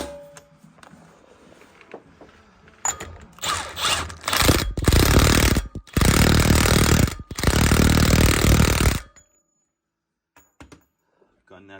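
Pneumatic impact gun hammering an axle shaft nut down on a car during a camber shim and unit bearing job, loud close rattling bursts in three long runs with short gaps, then quiet.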